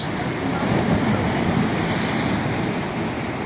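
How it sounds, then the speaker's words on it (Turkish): Surf rolls and crashes against the shore at Giresun, a loud, steady wash of breaking water with wind rumble across the microphone. "Dalga geliyor kaç kaç."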